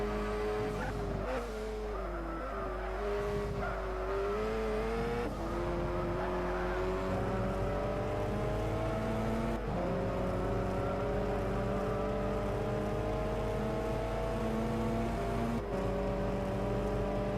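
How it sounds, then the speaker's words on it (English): Race cars in a GT300 endurance race in a racing video game, including a blue Subaru BRZ, drone loudly and continuously, their engine notes climbing and dropping through gear changes, with occasional tire squeal. "Now watching Skank trying to pass this blue BRZ from Scuderia Fronzini."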